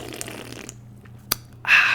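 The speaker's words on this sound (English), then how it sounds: "while I take a sip of my fizzy beverage" Sipping a fizzy beverage: a rough slurping gulp, then a short pause with a small click, and a brief airy, hissing sip near the end, close and fairly loud.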